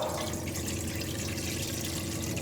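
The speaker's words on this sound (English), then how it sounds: "we'll pour some water in this, around 4 cups of water." Water, about four cups, is poured into a steamer heating on the stove, giving a steady, close splashing rush for a couple of seconds.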